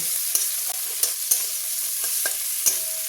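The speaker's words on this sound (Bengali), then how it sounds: "আমি এবার এই চিংড়ি মাছটা কড়াতে দিয়ে দিলাম। আমি এবার চিংড়ি মাছটাকেও এর সাথে ভেজে নেব।" Prawns frying in a wok, a steady close sizzle with several sharp scraping stirs of a spatula spaced through it, no voices.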